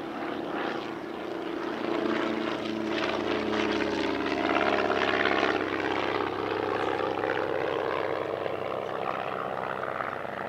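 A Team Mono JT1 Mono light propeller aircraft drones through an air display at Ragley Hall, a steady buzzing engine note that swells and eases slightly as it manoeuvres, heard alone at moderate distance.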